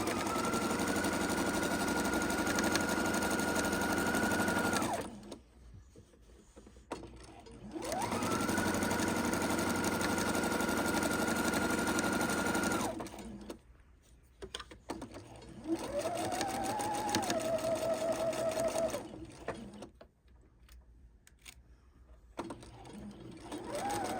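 A sewing machine stitches quarter-inch seams on a lined tote bag with gussets, running in three steady bursts of several seconds each with short quiet pauses between them.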